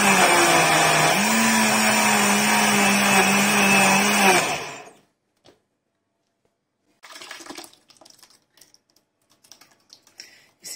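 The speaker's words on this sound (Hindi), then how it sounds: "तो ये लास्ट बैच हम पीस रहे हैं ठीक है पीसते हैं" A mixer grinder grinding mustard greens for sarson ka saag, giving a loud steady whir that shifts pitch briefly and cuts off after about four seconds, followed by silence and a few faint clatters.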